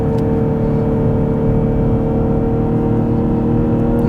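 BMW X6 xDrive 40i M Sport in sport plus mode with the transmission in S, accelerating under full throttle: a steady, loud engine drone and whir that holds without pause, with no talking.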